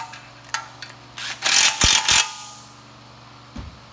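A ratchet tightens a nut on an oil pump pickup, a few quick clicking bursts close by, followed by a sharp metallic clack and quiet.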